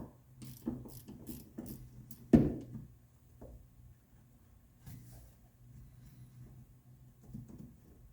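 Ratcheting mechanism clicks as a bolt is tightened on a 1970 Porsche 911 engine, a close run of quick clicks with one louder knock, followed by quieter scattered clicking and faint mechanical handling.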